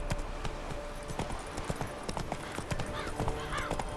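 Roach, the horse in The Witcher 3: Wild Hunt, galloping with rapid, steady clip-clop hoofbeats, close and continuous, with a brief whinny among the rhythm.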